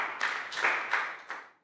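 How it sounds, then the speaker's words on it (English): A class of children applauds in a Year 3 maths lesson, four overlapping rounds of clapping that rise and fall before trailing off, close and fairly loud, no voices. "And big round of applause again, because that was excellent, guys."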